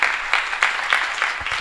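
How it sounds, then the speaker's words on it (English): An audience at a talk on South Africa's transition to democracy breaks into brief applause, a short run of rhythmic clapping bursts. "Give her a round of applause, please."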